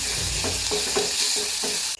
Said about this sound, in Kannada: ಸ್ವಲ್ಪ ಮಾಗಿದ ನಂತರ ಪುದೀನ ಹಾಕಿ ಸ್ವಲ್ಪ ಫ್ರೈ ಮಾಡಿಕೊಳ್ಳಬೇಕು